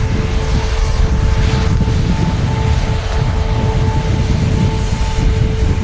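Aircraft engines roar steadily at Manchester Airport, a loud continuous broadband rumble with a faint steady whine, heard without any talk.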